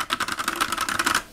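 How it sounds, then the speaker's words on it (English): Loud, fast typing on a custom-built mechanical keyboard, a dense run of crisp clacky keystrokes heard up close with no pauses. "If you need me, I'll be over here typing very loudly."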